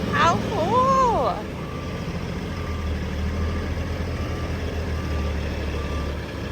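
A blue dump truck rumbles with a steady low engine drone at a road paving site, a voice briefly rising over it at the start before the engine carries on alone.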